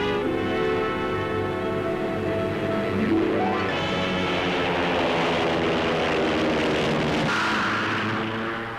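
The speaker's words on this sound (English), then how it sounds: "Fighter planes escort the bombers as the squadron flies high over Asia." Engines of WWII American fighter planes and bombers droning loudly and steadily as the squadron flies high overhead on a raid over Asia, a continuous rumbling roar whose pitch shifts midway as the aircraft pass.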